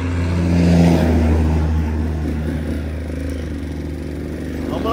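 A Honda CG 160 motorcycle fitted with its original exhaust runs on a highway, its engine droning loud and close with a brief swell of revving before settling into a steady rumble, wind noise throughout.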